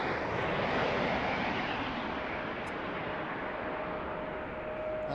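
Jet blast from an airliner at Washington's DCA airport washes overhead, a loud, broad roaring rush that stays steady and slowly eases, with no voices.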